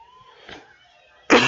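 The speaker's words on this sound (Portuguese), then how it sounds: "Vocês desculpem a tosse um pouquinho" A single sharp, loud cough bursts out at the end after near silence, from a man recovering from the flu while giving a software tutorial.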